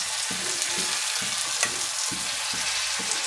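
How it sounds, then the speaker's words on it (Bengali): Gobindobhog rice and boiled, drained banana flower are stirred in a hot pan, a steady frying sizzle broken by about seven rhythmic scraping strokes of the spoon, close and fairly loud with no voices. "এটা দিয়ে পর আমি এটাকে ভালো করে নেড়ে দিচ্ছি।"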